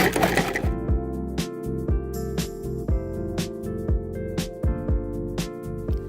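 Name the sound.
food processor pulsing chicken into chopped meat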